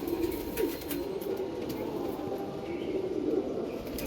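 Domestic pigeons coo in low, rolling murmurs that rise and fade a few times over steady background rumble, moderately close and not loud.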